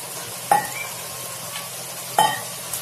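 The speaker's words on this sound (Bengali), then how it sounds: "অল্প জল দিয়ে দেব মাছের সঙ্গে মশলাটা আরেকটু ভালোভাবে ফুটিয়ে নেব" Rohu fish simmers in spice masala with a little water added, a faint low bubble under two sharp metallic clanks of a spoon against the pan.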